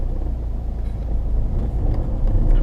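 A 2010 Saab 9-3 with about 227,000 miles on it drives along, its steady engine and road rumble low and continuous from inside the cabin, with no talking.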